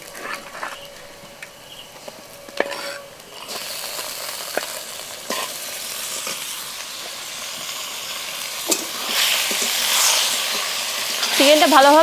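Chicken goes into a hot frying pan in a village kitchen, the sizzle and hiss building and growing louder toward the end, with scattered clinks and stirring knocks in the quieter first half.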